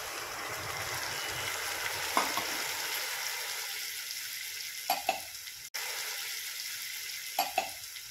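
Steady sizzling of moong dal frying with turmeric in a pan, with a few soft clinks and scrapes of stirring scattered throughout.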